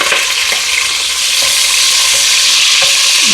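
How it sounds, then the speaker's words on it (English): Peppers fry with crispy bacon in a pan, giving a loud, steady sizzle with occasional stirring scrapes and pops, close and continuous with no talking. "I'm going to let those fry for a minute."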